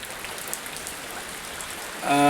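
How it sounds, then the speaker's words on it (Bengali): Steady hiss of rain falling outside, heard from a parked car, an even wash of drops throughout, with a brief tonal sound rising at the very end. "দাঁড়িয়ে গেছি আর বাইরে বৃষ্টি হচ্ছে"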